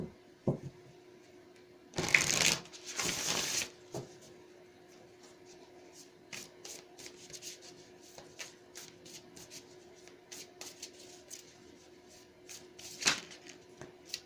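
Tarot cards are shuffled in two brisk riffling bursts, followed by soft, faint ticks and rustles of cards being handled in a quiet room.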